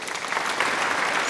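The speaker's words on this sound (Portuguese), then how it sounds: "Vamos fazer uma salva de palmas" Brief, steady applause from a small group rounds off the final episode of a Portuguese-language podcast on entrepreneurship, a dense patter of clapping with no voices over it.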